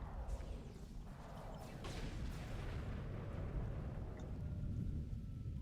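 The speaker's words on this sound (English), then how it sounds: "Explosion is just the way we need to go." A deep, rumbling blast from the Star Trek Online game, with a booming low roar that rolls on steadily with rough texture throughout, no speech over it.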